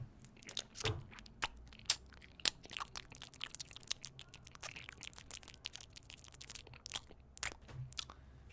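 Someone chewing a mouthful of crispy bacon with macaroni and cheese, a steady run of close, sharp crunches and wet bites repeating irregularly, quiet and alone without speech.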